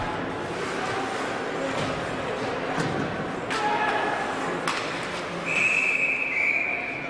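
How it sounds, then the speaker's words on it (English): A referee's whistle blows behind the net at a high school boys ice hockey game, a shrill sustained tone near the end over arena crowd noise, thuds and a commentator talking. "Whistle behind the Medway net"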